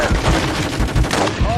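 Rapid gunfire rings out in a military shooter video game, a loud run of bursts that pulses steadily through the whole moment.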